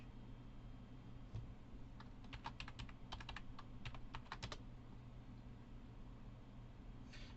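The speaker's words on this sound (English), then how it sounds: "Oh wait, I was typing on the wrong keyboard." Computer keyboard typing in a quiet room, bursts of rapid close keystrokes in the middle with a few scattered taps, over a faint steady hum.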